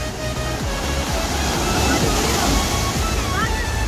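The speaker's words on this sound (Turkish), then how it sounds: "Denizde bugün aşırı bir dalgalanma var." Loud, continuous rush of surf with rough sea waves crashing on the Florya shore in Istanbul, a broad steady roar filling the whole clip with no clear pauses.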